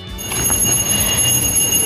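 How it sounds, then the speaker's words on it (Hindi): Temple bells ringing during a puja at a nearby temple in India, a sustained high metallic ring that hangs steadily over a dull background rumble, with no talk. "पड़ोस वाले मंदिर में पूजा चल रही है तो वहाँ से घंटी की आवाज़ आ रही है।"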